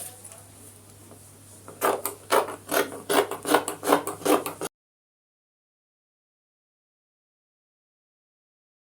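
Scissors snip through fabric while a second sleeve is cut out for a sewing project, a run of short crisp rasping cuts close to the microphone, then sudden silence.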